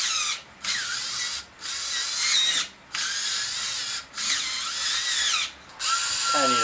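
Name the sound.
power drill drilling, blowing shavings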